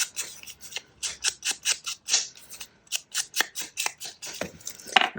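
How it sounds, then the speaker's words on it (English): Scissors cutting paper to snip a small divot for a tag, with about twenty crisp, rapid snips in an irregular rhythm, close and alone. "I'm just going to cut a little divot out."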